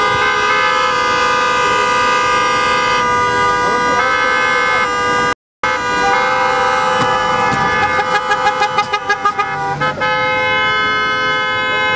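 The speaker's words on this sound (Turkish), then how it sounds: "vatandaşlarımız korna çalıyorlar" At the Kapıkule border crossing, protesting drivers keep up a loud chorus of overlapping car horns with siren-like wails, broken by a momentary cut, then a run of short rhythmic honks rising out of the din.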